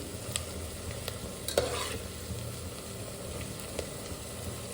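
Onions cooking in a pan for kheema, a steady soft sizzle broken by a few light clinks and scrapes of stirring, close by and quiet, with no voices.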